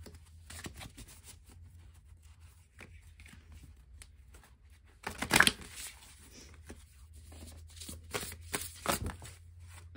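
Tarot cards being shuffled in a quiet room, a soft papery riffle and scattered flicks with a louder burst of rapid card slaps in the middle and another toward the end.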